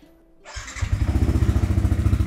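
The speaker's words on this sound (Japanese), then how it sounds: "評判のいいこの吉村マフラーをちょっと聞いてみましょうかね" Single-cylinder motorcycle engine with a Yoshimura muffler starts up and settles into a loud, crisp, evenly pulsing idle close by, its regular thumps continuing alone to the end.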